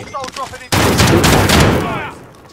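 A loud close burst of gunfire in Call of Duty Modern Warfare sounds after a brief moment of voices, a dense continuous volley that fades out near the end.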